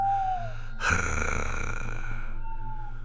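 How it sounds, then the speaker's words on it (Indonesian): A long, heavy, raspy breath sound effect rises suddenly from inside a buffalo pen, set against low eerie drones and tones in a horror audio story, with no speech. "Yang terdengar justru suara napas berat dari dalam kandang."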